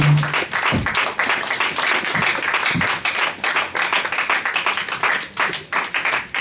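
A church congregation applauds loudly, dense sustained clapping from many hands filling the room, steady and close with a few faint voices mixed in.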